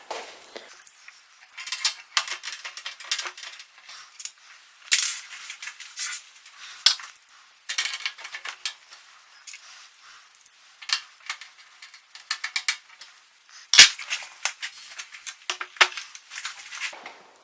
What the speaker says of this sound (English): screw in the screws right there